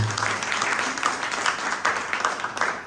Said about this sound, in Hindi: उनके लिए भी जोरदार तालियां बजनी चाहिए